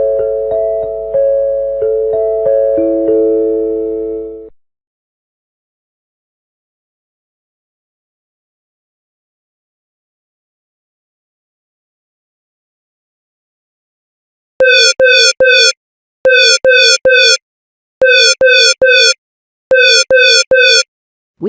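An emergency alert system attention tone sounds loud and alone: a sustained electronic tone fades out, then after long silence a series of sharp, rapidly pulsed electronic beeps repeats in short bursts.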